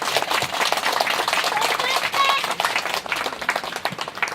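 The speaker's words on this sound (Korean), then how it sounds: "수고하신 분들께 박수 한번 보내드리겠습니다" A church congregation at a Korean Sunday service breaks into sustained applause, a dense crowd of hand claps filling the room and carrying on throughout, with faint voices underneath.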